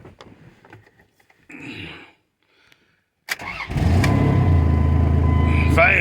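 A pickup truck taken in trade cranks and fires up at about three seconds, settling into a loud, steady idle with a noticeable exhaust leak, after a few faint knocks and rustles beforehand.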